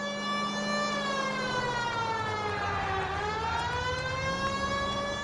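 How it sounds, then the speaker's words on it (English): A loud wailing siren rises and falls in a smooth sweep, close and continuous with no talk over it. "You know we've got a siren, Phelps."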